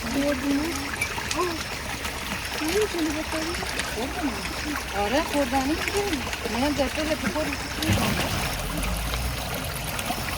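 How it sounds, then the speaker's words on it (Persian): Cold mountain spring water from the Alvand mountains in a village streams and splashes steadily, loud and close, while people talk over it throughout. "چند ثانیه صدای آب."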